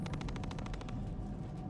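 Rapid gunfire in a video game plays as a fast, evenly spaced string of faint, distant shots for about a second, then fades into a low rumbling background.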